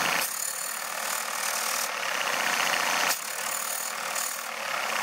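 An HO/OO scale 2-8-0 live steam locomotive runs on compressed air on a test bench, giving a steady, close hissing chuff with brief breaks as it changes direction.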